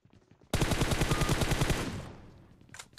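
Rapid automatic gunfire in the mobile battle-royale game PUBG Mobile: a loud, dense burst of rounds erupts abruptly after a quiet moment, hammers on for about a second and a half, then tails off into a fading echo, with no talk.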